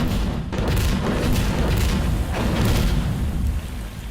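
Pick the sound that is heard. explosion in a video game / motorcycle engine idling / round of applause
explosion in a video game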